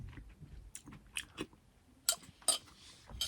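Someone chews a meatball from soup up close, with soft wet mouth sounds and a few sharper bites and clicks scattered irregularly across a few seconds.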